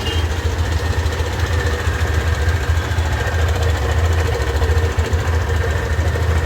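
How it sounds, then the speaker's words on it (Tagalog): A Yamaha Aerox scooter engine with a faulty camshaft bearing idles steadily with a low, even rumble and a faint ticking knock running through it, with no talking. "ito yung tunog ng makina."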